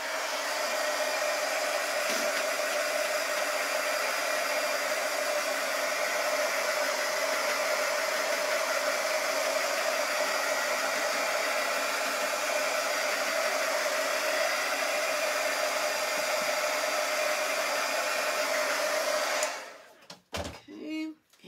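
A hair dryer blows steadily and loudly for about twenty seconds, drying freshly peeled glittery craft decor for farmhouse-style pieces, then cuts off abruptly near the end.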